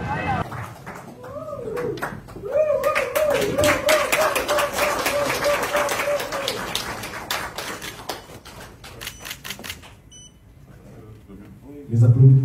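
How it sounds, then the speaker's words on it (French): Brief applause at a handover ceremony at the prime minister's office in Kinshasa, a sparse scattering of claps that thins out, with a voice speaking over it. "Les applaudissements timides."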